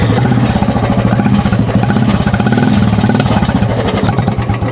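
A Royal Enfield Bullet motorcycle engine runs close by, a loud, steady low thumping with an even pulsing beat that holds for the whole stretch.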